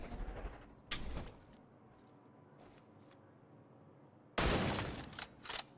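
TAC 50 sniper rifle fired in a video game: two loud, sharp shot bursts several seconds apart, each ringing out briefly over a quieter ambient bed.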